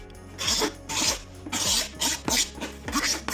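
A hand scraper shaves the cut edges of a plastic water tank panel, for a 120-litre underslung tank on a Ford Transit, ready for plastic welding: six rasping strokes in a steady rhythm, close and fairly loud, with no talk.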